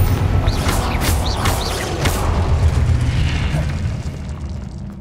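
A Confringo fire spell bursts in Hogwarts Legacy gameplay, a loud booming blast with crackling sparkle on top and a rumbling low tail that lingers and fades over several seconds.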